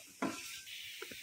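Peanut pickle masala sizzling in a pan over low heat gives a soft, steady hiss with a brief louder crackle near the start and a couple of faint pops later, close and quiet, with no talk.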